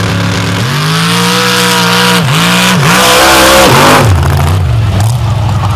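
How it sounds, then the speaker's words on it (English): A 700 cubic inch big block Chevy drag car launching on a sandy dirt track in North Florida: a loud, close engine roar climbing in pitch, dipping as the throttle goes on and off, then rising again. "a heck of a launch off the line"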